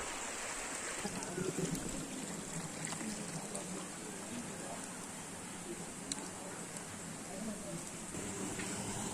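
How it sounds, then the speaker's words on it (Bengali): Waterfall stream water flows over rocks on a hillside near Chattogram, a steady broadband rush of moderate, distant level with some wind noise. "এটা ঝর্ণার পানি যাইতেছে"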